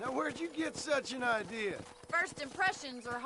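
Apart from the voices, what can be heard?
No everyday noise stands out behind the speech.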